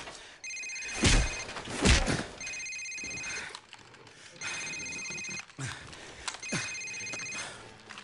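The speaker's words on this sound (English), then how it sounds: "Sir, it's his cell phone." A cell phone rings repeatedly in Call of Duty 4: Modern Warfare (2007), its electronic tone sounding in several bursts amid thuds, door-like knocks and brief dialogue.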